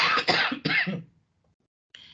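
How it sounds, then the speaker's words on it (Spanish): A conference speaker in a lecture on cleaning validation coughs twice, close and fairly loud. A brief pause follows, then a short, softer throat sound. "es que tengo un poquito de tos"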